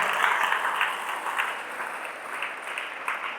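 An audience at a Tamil motivational talk gives a steady round of applause, dense clapping that stays fairly faint and distant throughout, with no talk over it.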